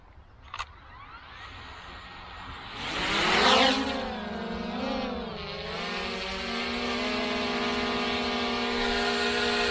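A DJI Mini 3 Pro drone in sport mode lifts off after a click, its rotors spinning up into a loud rising whine that wavers and then settles into a steady close buzz.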